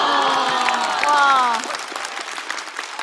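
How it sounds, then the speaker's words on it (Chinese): Studio audience at a stand-up comedy show applauding, a dense steady clapping that fades out midway, with a host talking over it. "再次掌声送给两位"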